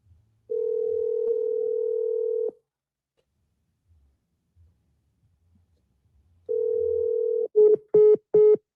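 A telephone dial tone sounds during an outgoing call to a seller, a steady hum for about two seconds, then silence, then the tone returns briefly and gives way to a few short touch-tone keypad beeps.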